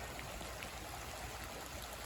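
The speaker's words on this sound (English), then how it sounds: "Here's the creek right now." Steady, even rushing of flowing creek water, about 20 feet across, a constant broadband wash with no voices, fairly close and moderately loud.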